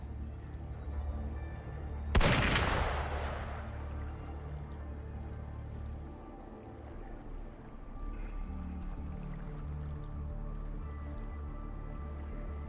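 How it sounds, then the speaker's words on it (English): A single sharp, loud burst of gunfire in the video game Wuthering Waves rings out, then decays into a steady low rumble of background ambience that continues for several seconds. "Gunfire!"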